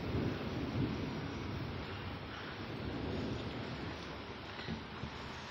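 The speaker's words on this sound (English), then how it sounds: "Thunderstorms are just so cool that I just want to record." A steady low roar of rain and wind fills the clip, with faint distant rumbles of thunder rising underneath.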